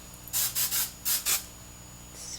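Several short bursts of fine-mist hairspray sprayed onto hair in quick succession, close and fairly loud, then one softer burst after a pause.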